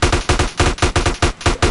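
Rapid bursts of AK rifle fire in Grand Theft Auto San Andreas, about ten loud, evenly spaced shots in quick rhythm, close and dominant with no talk.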